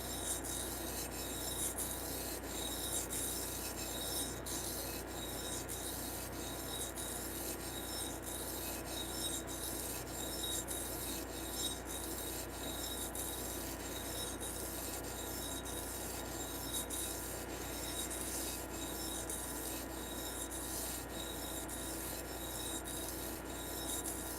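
A knife is sharpened freehand on Work Sharp diamond stones, making a steady, quiet rasping scrape in even repeated strokes that runs continuously without pause.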